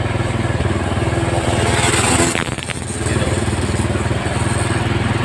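A hard-starting motorcycle engine with weak ignition charging, running with a rapid, uneven chugging pulse that falters briefly midway before picking back up, close and loud.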